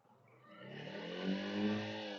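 A 150cc Suzuki Gixxer SF 150 motorcycle engine revs up smoothly, its tone rising and swelling from a soft start to a fuller, steady drone over about two seconds, heard alone and close.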